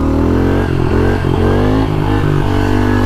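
A motorcycle engine revs hard and steadily up close during wheelie practice, its harmonic drone rising and dipping slightly with the throttle, loud and uninterrupted.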